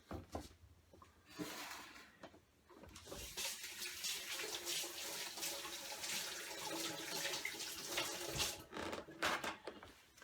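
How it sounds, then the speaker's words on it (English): Hands being washed under a running kitchen tap after handling raw sole fish, a steady splashing stream of water with brief pauses and shifts as the hands move through it, close and fairly quiet. "I'm going to wash my hands."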